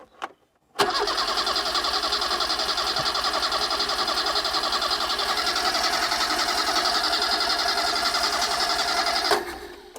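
An 80s hot hatch barn-find engine cranks steadily for about nine seconds without firing, a continuous whirring starter drone that starts and stops abruptly, close and loud.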